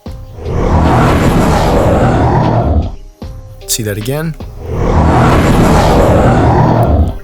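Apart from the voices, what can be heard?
dinosaur roar in Roblox Dinosaur Simulator video game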